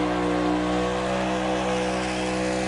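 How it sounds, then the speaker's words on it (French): A NASCAR race car engine at Pocono roars at a steady, high pitch during a burnout, loud and close, holding one sustained tone with no voices. "Le burn-out pour Ryan Blaney."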